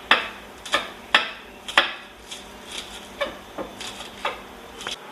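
Knife chopping spring onions for garnish on a board in a home kitchen, a series of sharp, fairly close taps at an uneven steady pace, alone without talk.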